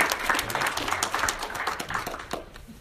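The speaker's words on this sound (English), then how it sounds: "Big round of applause for all of our presenters this week." An audience at a closing Q&A session in Estes Park applauds the week's presenters, a brisk, fairly loud round of many hands clapping close by that thins out toward the end.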